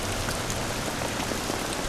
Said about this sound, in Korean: 경기 초반에 비가 내리기 시작합니다